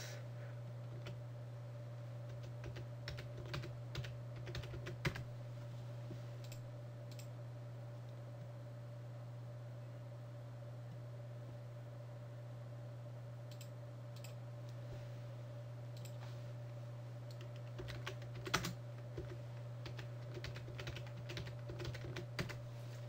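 Someone types router commands on a computer keyboard while configuring RIP in Cisco Packet Tracer. The keystrokes come in quick, irregular bursts of soft clicks over a steady low electrical hum, close and quiet.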